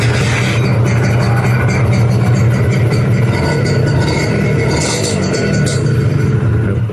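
A 1996 Honda NSR R150 two-stroke motorcycle with an RC valve and original exhaust idles steadily up close, a dense, continuous low rumble with a faint rise in revs toward the end.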